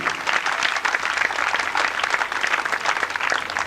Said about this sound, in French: Merci de les applaudir, ils sont parmi nous quelque part ici.